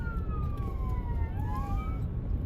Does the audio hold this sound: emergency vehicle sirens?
yes